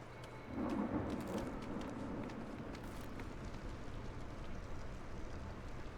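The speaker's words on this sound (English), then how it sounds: "Listen to the spooky sounds of lightning and stuff." Thunderstorm in the video game Against the Storm: a rolling rumble of thunder swells early, then steady rain and storm noise fill the rest, fairly loud and continuous, with no talking.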